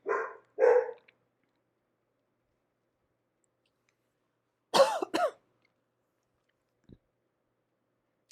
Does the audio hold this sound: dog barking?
yes